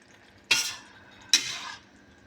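A chicken mixture being stirred in a pan, two separate scraping strokes of a utensil against the metal, fairly close and clear with quiet gaps between.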